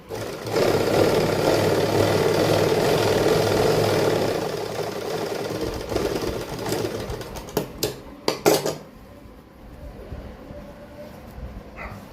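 A sewing machine stitches a plate into a suit, a continuous motor-driven whir for about four seconds that fades away, followed by a few scattered clicks and knocks.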